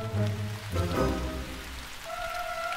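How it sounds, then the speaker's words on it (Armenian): Rain beginning to fall in an animated cartoon scene during a storm, a soft steady patter heard alone at moderate level alongside a few tonal effects. "Ոնց որդե անձրև է սկսվում։"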